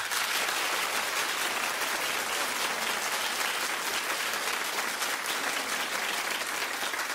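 A studio audience on a daytime talk show claps in a sustained, even wash of applause that holds at steady volume for the whole stretch, with no voices over it.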